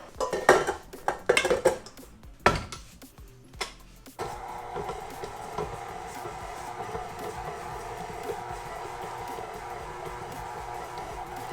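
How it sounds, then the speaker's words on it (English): A stand mixer churning vegan ice cream opens with a few clattering knocks of bowl and utensils, then settles into a steady, droning motor hum that carries on to the end. "Now I'm going to churn it with my stand mixer."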